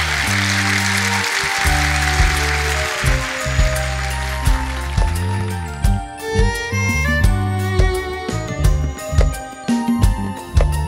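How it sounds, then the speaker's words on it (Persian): Audience clapping at the Dera Concert for Obaid Juenda, a dense patter of applause most prominent at first, then fading beneath instrumental music with rhythmic plucked and drum notes. "منتظر کف زنن و تشویق کردن شماست جویندا صاحب"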